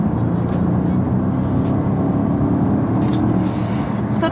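A Mercedes S550 accelerates hard from a standstill, its engine giving a loud, steady roar throughout the short burst, with a person's voice mixed in.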